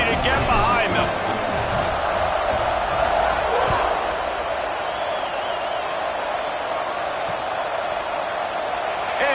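A video game stadium crowd from NCAA 26 roars steadily at a college football kickoff, a dense, even wall of cheering under a play-by-play commentator's voice throughout.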